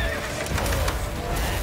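A horse neighing in the video game The Witcher 3, a short whinny over heavy rumbling noise, loud and close.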